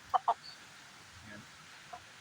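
A gamecock rooster gives two sharp, close clucks in quick succession, then a single fainter cluck after a short pause, against a quiet background.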